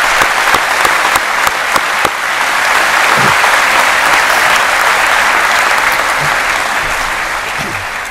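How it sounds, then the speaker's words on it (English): High school graduation audience applauding, dense sustained clapping from a large crowd that swells then gradually tapers off. "So if we could give this group one more round of applause."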